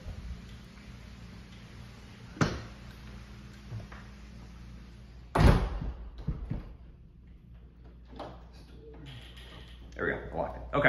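A door in a Naples, Florida home is shut and locked, giving a sharp clack followed by a louder thud and latch click. Faint room noise fills the gaps, and a few small rattles come near the end.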